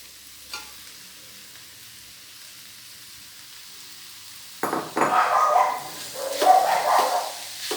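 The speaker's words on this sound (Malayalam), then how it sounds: "നല്ലതുപോലെ ഇതിലോട്ട് മിക്സ് ആവുന്ന രീതിയിൽ നമ്മൾ ഇളക്കി ചേർക്കണം" Cooked chicken, boiled with turmeric, salt and pepper, being stirred into a filling in a pan for chicken ada; quiet at first, then several seconds of close scraping and clattering stirring with a faint sizzle.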